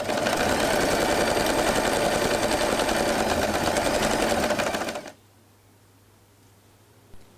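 Sewing machine stitching the overlapped elastic band of a scrunchie, a fast steady close mechanical whir for about five seconds before stopping abruptly, leaving quiet.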